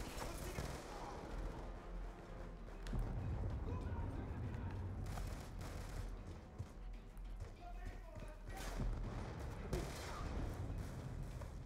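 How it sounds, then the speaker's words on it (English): Burst-fire gunshots from a weapon in the video game Call of Duty: Black Ops II, repeated short clusters of shots over dense battle noise, with someone talking at times. "Okay, I turned it into a burst fire"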